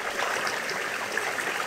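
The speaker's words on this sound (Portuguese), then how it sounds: "Ó, como tá linda aqui a cachoeira que eu botei esse canto de 75, ó." Steady rush of water from a small man-made waterfall pouring into a filled pond stocked with fish, a continuous close splashing flow with no pauses.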